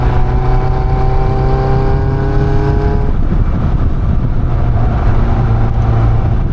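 Caterham 340S sports car engine droning steadily at close range while driving, a strong harmonic tone holding then shifting pitch midway as the revs change, with wind rush throughout.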